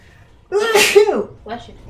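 A single sharp human sneeze, with a quick inhale leading into an explosive burst and a brief trailing sound after it, close and clear over near silence.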